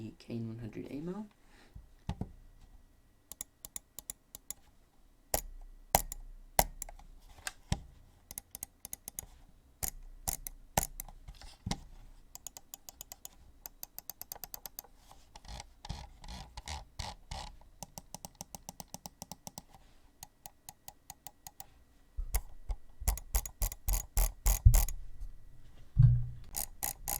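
A Roccat Kain 100 Aimo gaming mouse is handled and clicked up close, with sharp, crisp clicks in quick bursts and irregular clusters, broken by short quiet gaps and a few soft handling rustles.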